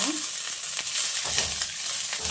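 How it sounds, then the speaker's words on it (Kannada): Mint and coriander leaves fry in a pan with green chillies and oil for a chicken egg curry, giving a steady close sizzle with soft stirring scrapes and no talk. "ಹಾಕ್ಕೊಂಡು ಚೆನ್ನಾಗಿ ಫ್ರೈ ಮಾಡೋಣ"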